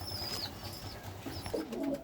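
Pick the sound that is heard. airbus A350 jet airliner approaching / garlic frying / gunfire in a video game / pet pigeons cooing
pet pigeons cooing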